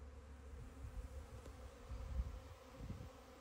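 A swarm of honey bees hums close by in a dense, continuous drone that rises and falls slightly, with no voices over it.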